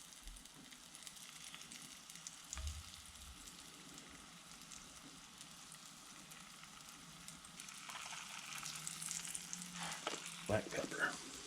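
Floured garden flowers frying in olive oil: a faint, steady crackling sizzle that swells louder near the end, with a few soft knocks, heard close and without speech.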